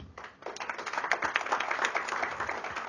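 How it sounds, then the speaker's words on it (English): Audience applause at a leadership conclave, offered in tribute to people who died assisting police; a steady wash of many hands clapping at moderate level for about three seconds, with no talk over it. "You can give them an applause."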